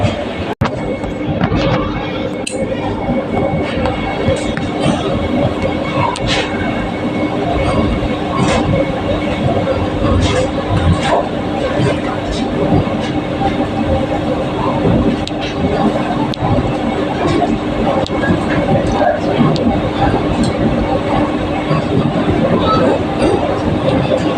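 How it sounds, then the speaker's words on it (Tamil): Vande Bharat Express train running steadily from Chennai toward Nagercoil, a continuous rumbling rail noise heard from inside the coach with faint clicks and some faint voices throughout. "கரெக்டாக அஞ்சு மணிக்கு ட்ரெயின் எடுத்துட்டாங்க"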